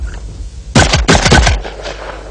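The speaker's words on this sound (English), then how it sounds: "let's speed shoot this Benelli and see just how fast it really is" A Benelli shotgun fires a rapid burst of about three to four loud, closely spaced blasts at clay targets outdoors, each shot ringing out sharply before the sound trails off.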